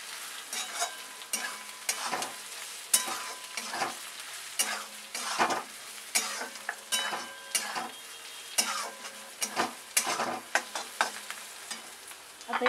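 Coconut powder dry-roasting in a pan: repeated close spatula scrapes and stirring strokes come in an uneven rhythm over a faint sizzle. The sound is fairly quiet and no one speaks.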